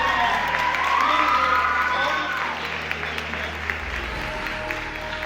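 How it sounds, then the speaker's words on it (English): A standing audience at a speech and debate friends and family night gives seniors a loud, dense round of applause mixed with cheers and whoops, slowly thinning toward the end. "Can we have a standing round of applause for each of them?"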